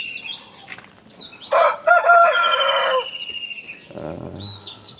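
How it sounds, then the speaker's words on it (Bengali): A home-bred aseel rooster, a tall fighting breed, crows once loudly and close, a sustained strained call amid smaller birds chirping and a few clucks. "আমাদের এই মোরগটা এত হয়তো অনেকে চিনে"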